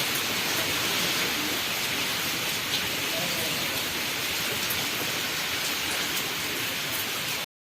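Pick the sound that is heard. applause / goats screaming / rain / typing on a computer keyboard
rain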